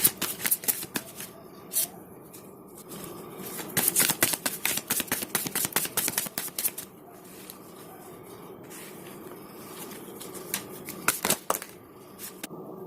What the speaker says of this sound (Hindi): तो पहले मैं कार्ड्स को शफल करूँगी।